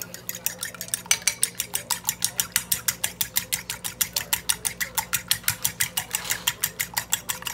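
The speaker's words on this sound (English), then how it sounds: "Just going to beat this egg up a bit" An egg being beaten briskly in a bowl with a utensil, producing rapid, regular clicking strokes at a steady fast rhythm, close and clear, for making an egg wash.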